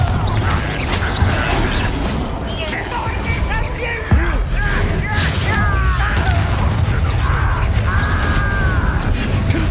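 The Bombarda blasting spell from Hogwarts Legacy booms through a dense wash of game combat noise, with rumbling impacts and crackling debris. A voice talks over the action throughout.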